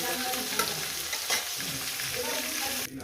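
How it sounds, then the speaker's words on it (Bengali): Rohu fish heads frying in hot oil, a dense, steady close-up sizzle and spatter with a couple of faint utensil knocks and no talk. "বাদ বাকি মাছের মাথাগুলো আমি ভেজে দেবো"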